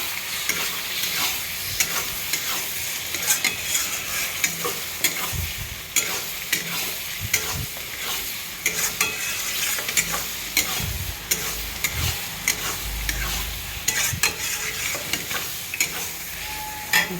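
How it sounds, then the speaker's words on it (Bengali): Fried paneer being stirred into spinach gravy in a pan, with a steady soft sizzle under repeated scraping and clicking of a spoon against the pan, irregular taps scattered throughout, close and without talk. "এবার আমি এই যে ভেজে রাখা পনিরগুলো এর মধ্যে দিয়ে দেবো, দিয়ে আমি আরেকটু নাড়াচাড়া করবো"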